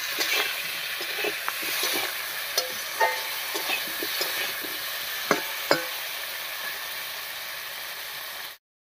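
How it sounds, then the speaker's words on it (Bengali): Potatoes frying in a pan give a continuous close sizzle, with scattered light scrapes and taps of a spatula during stirring, no voices, ending abruptly. "আলুটা বেশ ভাজা ভাজা হয়ে গেছে, এবার বাটা মশলাটা দেব।"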